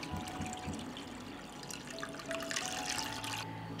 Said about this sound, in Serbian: Sipat ću vodu u šerpu do visine poklopca.